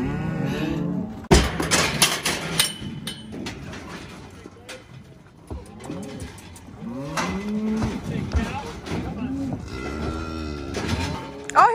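Cattle on a farm moo repeatedly in long, drawn-out calls, several animals near and farther off, with a sharp clank and occasional human voices in between.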